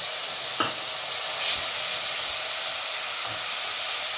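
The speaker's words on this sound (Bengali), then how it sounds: "একটু ভাজা ভাজা হতে দেব।" Ginger and green chilli paste frying in oil with bay leaves on a medium flame, a loud continuous close sizzle with a couple of brief spoon scrapes.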